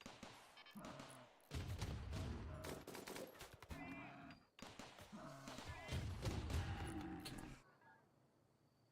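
Auto gun turret firing in the video game Rimworld, rapid bursts of loud automatic gunfire in two long sustained volleys separated by a brief pause, then cutting off.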